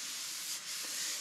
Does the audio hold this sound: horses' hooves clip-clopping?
no